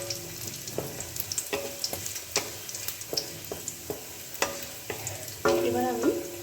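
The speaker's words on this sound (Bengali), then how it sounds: "3-4টে রসুন কুচি ফোড়ন হিসাবে দিয়ে দেবো, মানে 3-4 কোয়া।" Chopped garlic cloves fry in hot oil as a tempering for masoor dal with bottle gourd, a soft continuous sizzle broken by frequent utensil scrapes and taps while it is stirred.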